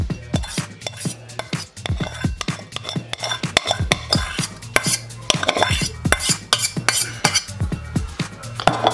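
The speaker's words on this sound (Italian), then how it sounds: "dopo che abbiamo mischiato per bene nella pentola la pasta con la pancetta, andremo a mettere tutto quanto in questa qua" Pasta carbonara with pancetta and cream is stirred in a metal pot, with rapid, repeated clinks and scrapes of a utensil against the pan, loud and close, with a faint sizzle underneath.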